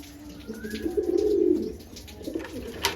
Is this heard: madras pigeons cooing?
yes